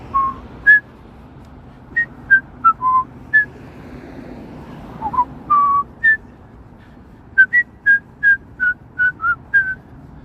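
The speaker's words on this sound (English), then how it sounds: "Although I did a shit job of whistling it." A person whistles a theme tune on a Toronto street after sunset: a run of short, bright melodic notes in uneven phrases over low city rumble and light wind.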